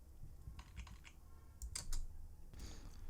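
Computer keyboard typing in quick, uneven bursts of close key clicks, with a short pause between groups of keystrokes, and no talk.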